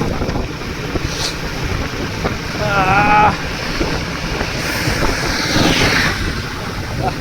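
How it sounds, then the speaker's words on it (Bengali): Constant rushing wind and road roar from riding a motorbike along an unfamiliar road at night, loud and close, with a brief higher whine passing mid-way. "রাস্তার কি আওয়াজ"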